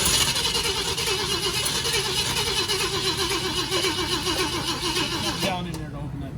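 A 69XL engine, just back from fuel system and choke work, starts up and runs close and loud with a steady rumbling, rhythmically pulsing note that eases off near the end.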